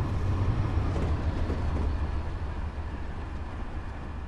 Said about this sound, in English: Oh, we got an oncoming train.